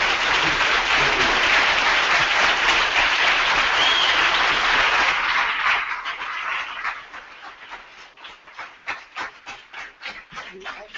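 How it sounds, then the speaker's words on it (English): An audience applauds Bill Plympton at a masterclass, dense sustained clapping that thins after about six seconds into scattered individual claps fading out. "If we can have an applause for Plympton."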